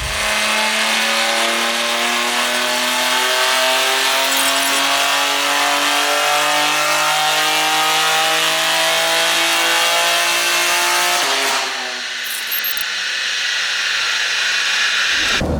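Tuned BMW G80 M3 xDrive with the S58 turbo engine on stock 99 RON fuel, a loud sustained full-throttle roar with rising engine pitch for about eleven seconds, then lifting off into a hissing, lower rumble.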